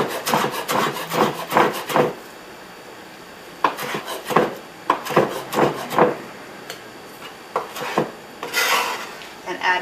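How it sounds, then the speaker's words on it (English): A knife chops vegetables for raw pad thai on a cutting board, giving clusters of quick close knocks and rasping cuts, pausing briefly between bursts. "Chop it up just a little bit."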